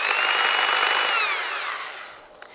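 Power drill spinning a wooden arrow shaft in a top hat thread forming tool, a loud continuous high whir and rasp that winds down and fades over a couple of seconds.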